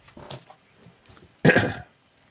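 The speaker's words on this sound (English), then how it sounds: "clear my throat." Someone clears their throat nearby, with a few soft rasping hacks followed by one louder, harsher throat clearing.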